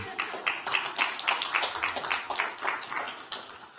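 Clapping from people at a county board of supervisors meeting, a brisk run of close, distinct handclaps with uneven rhythm that continues steadily throughout.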